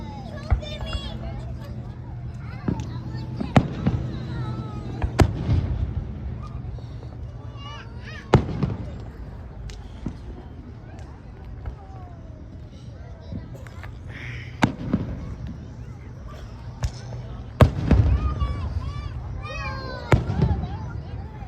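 Fireworks burst in a show watched by a child, a series of sharp, loud cracks and booms spaced irregularly, some crackling afterward, with children and others talking and exclaiming throughout.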